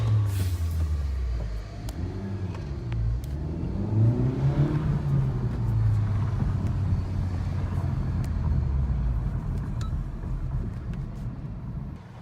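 Honda Civic Type R FK8 with a K&N air filter, its engine heard close as a few rising and falling revs, then settling into a steady idle.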